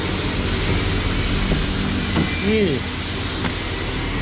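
A Mitsubishi Jetstar pickup, started with jumper cables, idles steadily as a continuous low mechanical drone while someone speaks briefly over it.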